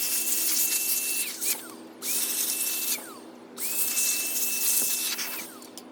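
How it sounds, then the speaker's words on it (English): An electric air duster blows dust out of a computer case outdoors, a loud motor whine coming in three long bursts with brief pauses between them, close and steady while it runs. "So I'm going to take this outside and give this a thorough blowing down."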